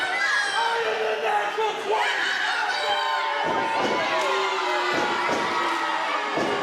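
A crowd cheers and shouts in the Freeport High School gymnasium during a professional wrestling show, with excited children's voices, scattered yells and occasional loud bangs throughout.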